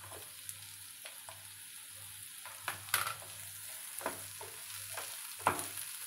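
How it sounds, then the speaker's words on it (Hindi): Vegetables and mushrooms sauté in a pan with a faint, low sizzle, broken by a series of soft scraping stirs and light utensil taps spaced a second or so apart. "कुछ सेकंड्स के लिए इसको सौते करेंगे"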